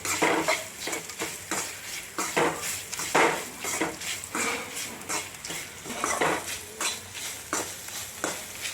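Roselle flowers frying in a pan for pickle, with rhythmic scraping and clinking of a spoon stirring against the pan every second or so over a soft sizzle, close and clear.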